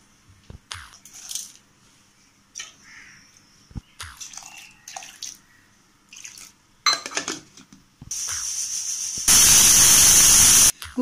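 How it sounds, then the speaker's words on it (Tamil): A pressure cooker on a home stove releases its whistle while adai batter is being made, a loud, steady hissing blast rising near the end after scattered kitchen clatter and drips. "குக்கர் ஒரு விசில் வந்துருச்சு"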